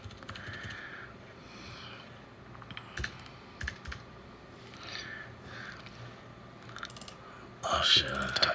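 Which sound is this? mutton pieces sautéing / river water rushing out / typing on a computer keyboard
typing on a computer keyboard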